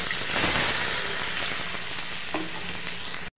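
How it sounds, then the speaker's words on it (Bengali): Chopped onions frying and sizzling in hot oil left over from frying fish for a potato and fish curry, a steady dense crackle with a brief stirring scrape, close and loud without speech. "পেঁয়াজগুলোকে ভালোভাবে নেড়ে চেড়ে ভেজে নেব।"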